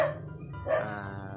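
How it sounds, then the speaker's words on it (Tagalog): A neighbour's dog barks in a backyard garden, two short barks about half a second apart, moderately distant and fairly quiet. "Pasensya na kayo sa aso, maingay sa kapitbahay."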